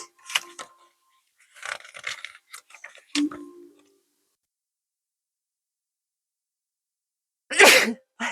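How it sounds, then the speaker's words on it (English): A single sharp sneeze bursts out loud and close near the end, after scattered quiet clicks and rustles. Brief talk comes before it. "I feel like I'm going to sneeze."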